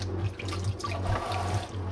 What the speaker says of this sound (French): Donc tu la trempes dans l'eau.